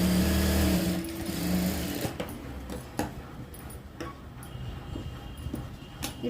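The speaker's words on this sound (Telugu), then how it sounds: "ఇలా ఒక కుట్టు అనేది వేసుకోవాలి" Sewing machine stitching a blouse neckline: a loud steady whirring run of needle strokes in the first two seconds, then quieter intermittent ticks, knocks and fabric handling, close up with no talking.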